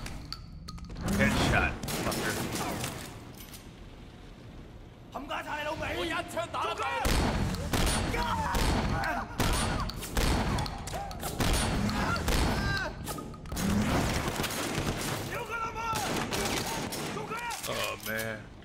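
Gunfire in the video game Sleeping Dogs: Definitive Edition, loud repeated shots and thuds in bursts across the clip, mixed with game sound and someone talking over the action.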